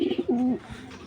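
Python bloodline racing pigeons coo once up close, a short soft throaty coo rising then fading in a quiet setting.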